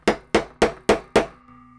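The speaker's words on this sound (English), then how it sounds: "I have this little tool here that you put on top of that on the back side. And just hammer that" Five sharp metallic hammer strikes in an even, quick rhythm on a small eyelet setting tool, splitting an eyelet open, each ringing briefly, then a faint lingering hum.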